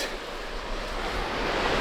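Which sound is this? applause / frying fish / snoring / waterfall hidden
waterfall hidden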